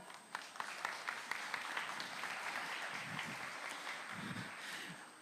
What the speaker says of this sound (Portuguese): Vocês podem bater palmas?